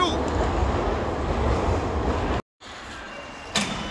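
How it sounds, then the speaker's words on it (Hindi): A Chengdu Metro Line 2 train pulling away from a station, a loud steady rumble that cuts out briefly, then returns quieter with a short sharp burst near the end. "ट्रेन भी जो है वो इधर को चल पड़ी है"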